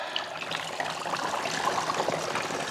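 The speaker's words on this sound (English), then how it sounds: "So we're gonna go ahead, pour out our Coca-Cola." Coca-Cola poured out of a battery during a battery revival attempt: a steady, continuous splashing trickle of liquid, fairly faint, lasting the whole moment without a break.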